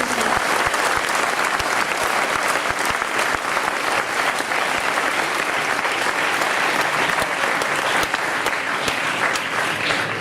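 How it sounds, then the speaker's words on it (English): A school graduation assembly audience gives sustained, loud, even applause for departing teachers, a dense wash of many hands clapping throughout with no break. "we just would like to give them a round of applause"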